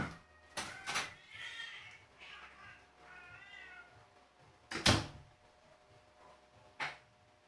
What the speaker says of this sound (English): Those cats are horny upstairs. Chat, you hear the cats, right?